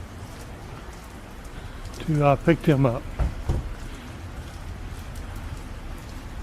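Steady rain falls outdoors on Tybee Island, a constant hiss of drops on surfaces throughout, with a voice speaking briefly in the middle over it.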